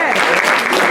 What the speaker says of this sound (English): Clap it up for them. Clap it up for everybody.